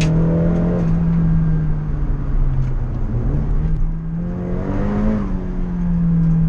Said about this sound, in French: Le son de ta voiture, il est trop bien.